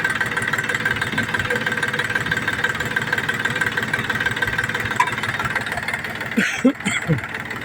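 A KM-385 engine runs steadily at idle while fuel feed to the third cylinder is adjusted, giving a continuous close mechanical rumble and knock, with a few louder bumps near the end.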